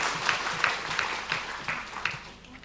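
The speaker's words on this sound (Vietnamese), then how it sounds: "Đề nghị chúng ta cho một tràng vỗ tay cho những thành tích của công ty FPT trong 2023." An audience claps at a corporate shareholders' meeting, a short round of applause of moderate loudness that fades out toward the end.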